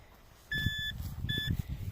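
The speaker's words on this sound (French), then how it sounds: "Ici ça bip." Two steady electronic beeps from a metal detector sound close by, each lasting under half a second, over low rumbling handling noise.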